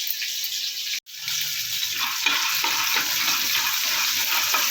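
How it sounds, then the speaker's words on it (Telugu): Ingredients fry in oil for a tomato and coriander chutney, giving a steady, close hiss and crackle that drops out for a moment before returning at an even level. "వీటిని కూడా మనం వేయించుకొని పక్కన పెట్టేసుకుందాం"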